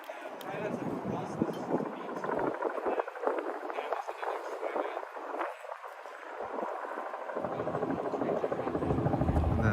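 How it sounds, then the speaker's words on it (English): A police helicopter's rotor throb carries steadily from a distance over Lents Park, Portland, growing somewhat louder toward the end, with people talking over it. "The helicopter we can hear up there is going to be used."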